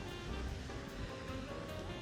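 Waves washing onto a beach in a town on the road to Naples, a soft, steady surf hiss heard from a little distance, fairly quiet, with no voices.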